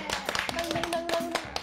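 A small group claps for the winner of a noodle-cooking contest, Wang Junkai, as he is called up on stage: brief, close, scattered handclaps over a faint steady tone and some talking.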